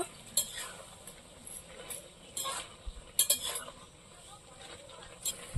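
Poppy seed paste being stirred while ridge gourd sautés in a pan, soft intermittent spoon clinks and scrapes against the metal pan over a faint low sizzle, fairly quiet and without talk.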